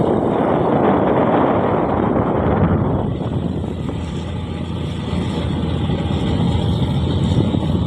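Strong typhoon wind roars steadily against the microphone on a fishing trip, a loud broadband rush that eases slightly midway before building again.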